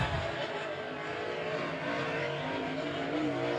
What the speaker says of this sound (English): We've got the 13 car spun.